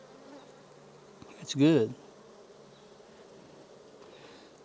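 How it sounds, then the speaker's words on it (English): A honey bee buzzes loudly past, very close, during a hive inspection of a nuc, a brief rising-and-falling drone lasting about half a second against quiet outdoor background, with a faint voice nearby. "Bees seem fairly calm."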